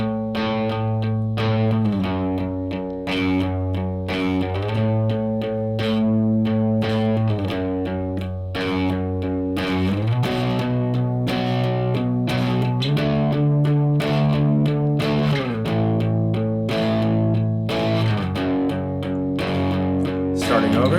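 Distorted electric guitar power chords chug steadily through the verse of a song, with loud, thick chord changes every couple of seconds and no talking.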